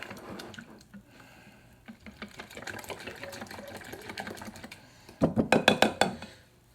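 Cinnamon and vanilla are stirred into a liquid mixture, giving a steady run of quick clicking, scraping strokes that turn louder and sharper in a rhythmic burst near the end.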